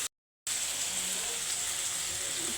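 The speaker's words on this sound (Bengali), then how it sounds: "দিলাম কাঁচা ঝাল, ভালো করে ভেজে নেব পেঁয়াজটা।" Onion and green chilli fry in hot oil with a steady, bright sizzle that starts abruptly after a brief silent gap and then holds an even, close hiss throughout.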